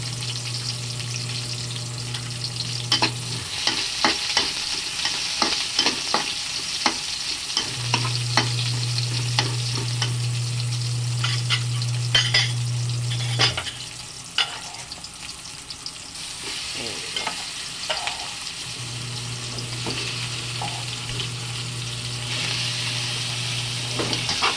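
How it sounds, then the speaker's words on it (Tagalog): Chopped white onion frying in a pan, a continuous sizzle broken by repeated scraping and clacking stirs, with a low steady hum starting and stopping in the background. "white onion."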